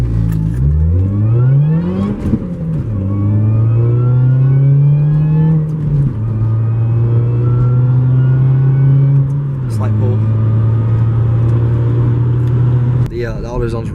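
Mazda RX-7 drift car engine pulling hard, revving up in rising sweeps and holding high loud pitch through several gear changes, close and dominant for the whole stretch.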